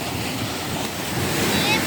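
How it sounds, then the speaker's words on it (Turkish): Slightly choppy sea waves wash continuously and fairly loudly, with wind noise buffeting the microphone on open water during a fishing trip. "Deniz tam Sargoz Denizi. Hafif dalgalı."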